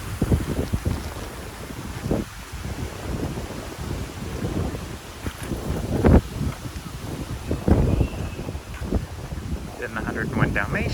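Wind gusts from Hurricane Ian sweeping through the Walt Disney World resort, a steady blustery rush buffeting the microphone with rising and falling swells, while people talk nearby.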